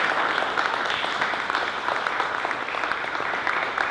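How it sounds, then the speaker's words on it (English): An audience at a film screening event claps in a steady, dense round of applause that continues evenly throughout, slightly distant in tone. "So big round of applause for Bryce"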